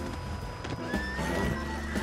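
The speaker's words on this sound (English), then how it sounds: "Get on the horse, get on." A horse in a video game whinnies over steady clip-clopping hooves and a busy background of game sound, loud and close, with no talk.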